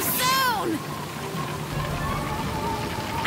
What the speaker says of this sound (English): It'll probably just be a light drizzle.